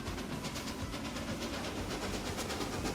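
Train in the video game Transport Fever 2 rolls past with a continuous loud rumble and rhythmic clatter, a dense steady roar throughout, with no talking.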